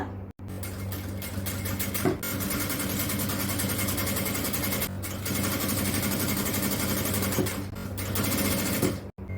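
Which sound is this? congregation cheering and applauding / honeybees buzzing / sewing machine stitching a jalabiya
sewing machine stitching a jalabiya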